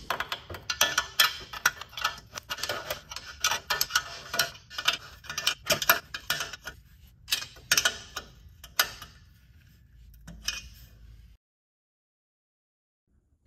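A 13 mm wrench tightens the rear bolt of a skid plate on a 2018-or-later Honda Goldwing motorcycle: rapid ratcheting clicks close up in uneven bursts, then silence.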